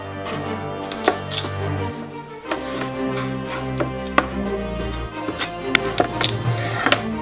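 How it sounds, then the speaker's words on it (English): A knife chops food thinly on a cutting board, a steady series of sharp, close taps with a few louder knocks, over a low background hum while making fish tacos. "we're gonna chop this up nice and thin"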